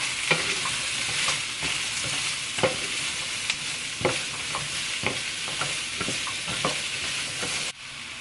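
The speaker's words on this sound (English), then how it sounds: "I'm gonna go ahead and put my onion, my carrot, and my celery in to get that all cooking" Chopped onion, carrot and celery sizzle in a pan with a steady frying hiss, broken by irregular clicks and scrapes of stirring, before the sound abruptly drops away near the end.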